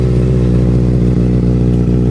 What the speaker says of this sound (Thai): มาฟังเสียงท่อรอบเดินเบากันบ้างดีกว่าครับ